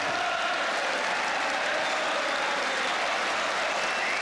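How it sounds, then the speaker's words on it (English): A football stadium crowd at a Chelsea versus Manchester United match applauds in a broad, continuous wash of sound that holds steady and fairly loud throughout, with a faint voice underneath. "More applause for Charlton."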